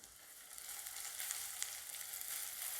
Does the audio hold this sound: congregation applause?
no